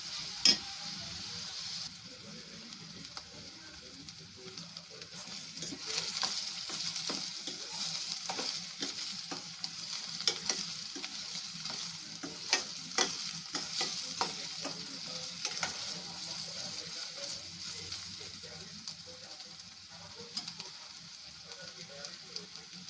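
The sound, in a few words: onions frying and being stirred for prawn curry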